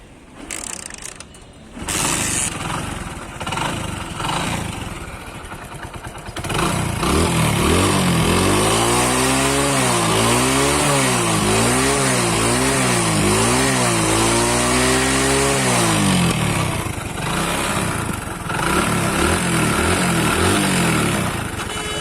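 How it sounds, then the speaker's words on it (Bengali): A 100cc motorbike engine starts up after a brief mechanical rattle, then settles into a loud, close steady idle with repeated rising and falling revs before easing back. "তো বাইকটি স্টার্ট করে সাউন্ড কোয়ালিটি শুনি"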